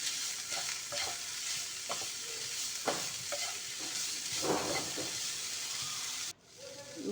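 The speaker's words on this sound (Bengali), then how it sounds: "এরপর আমি আলুটা এর মধ্যে দিয়ে খুব ভালো করে মশলার সঙ্গে মিশিয়ে নেব।" Potatoes stirred and fried with spices in a pan, close sizzling with repeated scraping strokes of a spatula, then a sudden drop to quiet near the end.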